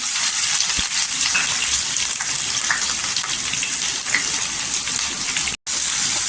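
Onions frying in hot oil with mustard seeds, cumin and curry leaves, a steady loud hiss and crackle of sizzling that runs without pause, with a brief cut near the end.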